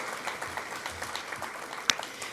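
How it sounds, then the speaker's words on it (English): Audience at an awards ceremony clapping in a steady, even round of applause, with one sharp, louder clap standing out near the end. "One more round of applause for Sonny,"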